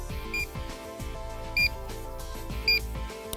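A CO2 sensor monitor sounds a fault alarm, short high electronic beeps repeating about once a second, faint and close over a low background hum with no talking.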